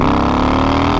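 A loud, close engine roar from a Harley-Davidson Low Rider S (FXDLS) motorcycle accelerating hard, a brief steady rumble with rising harmonics.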